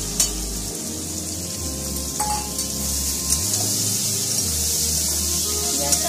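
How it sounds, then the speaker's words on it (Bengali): Onions frying in oil in a pan for a Bengali crab curry: a loud, steady close sizzle and hiss with occasional light stirring scrapes, and no speech over it. "পেঁয়াজটা আমি ভালো করে ভেজে নেব।"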